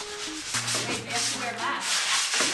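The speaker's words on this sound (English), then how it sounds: "I did know we needed to sand those panels before painting" Sanding wooden panels before painting, a steady abrasive rasp with rubbing strokes that surge and ease over a couple of seconds, close and continuous with no voices.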